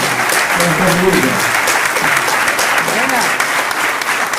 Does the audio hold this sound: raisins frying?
no